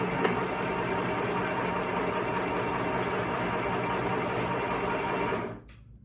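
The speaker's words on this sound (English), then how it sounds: "we're going to be sewing this at 1/2 inch seam allowance" A sewing machine stitching a dress seam at half-inch allowance runs in one steady, close whir for about five seconds, then slows and stops.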